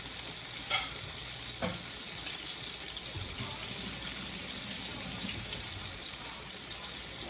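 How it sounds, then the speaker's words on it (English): Tap water runs steadily into a kitchen sink while hands are rinsed, a constant broadband hiss with a couple of brief knocks near the start. "Rinse my hands off."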